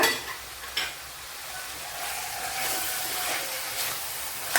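Chopped tomatoes hit a pan of sautéed onions, raising a loud, close, hissing sizzle that holds steady with a couple of brief scraping stirs and no voices.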